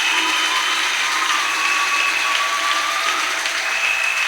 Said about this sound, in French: Acclamez pour lui.